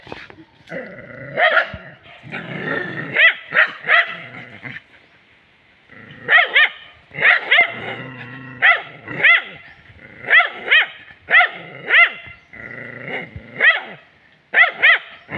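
Several village dogs fighting a white snake bark in loud, close, repeated bursts, with growls and yips between the volleys and a short lull partway through.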